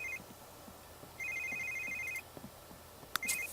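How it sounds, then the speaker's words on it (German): A telephone rings in The Sims 3 with short, electronic two-tone trills, repeating in bursts over quiet game ambience. "Telefon."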